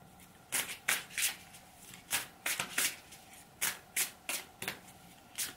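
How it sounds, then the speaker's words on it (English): Oracle cards from a Christ Consciousness deck being shuffled by hand, a series of crisp riffling bursts roughly every half second, close and clear with no talking. "Let's have one more card from the Christ Consciousness deck."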